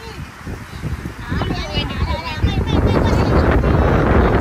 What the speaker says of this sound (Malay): Angin kuat oi.